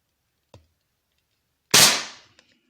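A Black Ops Soul Langley air rifle fitted with a silencer fires one sharp, close crack followed by a short fading tail, with a small click before it in an otherwise quiet setting.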